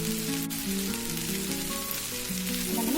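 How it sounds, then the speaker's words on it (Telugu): Ivy gourd (tindora) pieces fry in oil in a pan with coriander powder and salt, giving a steady, close, continuous sizzle with faint crackle throughout. "మనము దొండకాయ బాగా వేగేంత వరకు ఫ్రై చేసుకున్నామండి."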